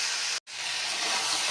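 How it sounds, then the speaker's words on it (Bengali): Potatoes and drumsticks tossed with spices in a hot pan give off a steady loud sizzling hiss that breaks off briefly for a moment and then starts again. "ভালোভাবে নেড়ে ছেড়ে ভাজা করে নিচ্ছি মশলার সঙ্গে আলু আর সাজনাগুলি"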